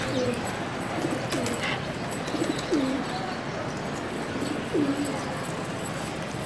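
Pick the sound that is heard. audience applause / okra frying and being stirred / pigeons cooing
pigeons cooing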